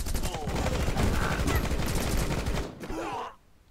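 Rapid bursts of gunfire in the video game Rocketbirds: Hardboiled Chicken, loud and dense for about three seconds before cutting off, with a voice talking over the shooting.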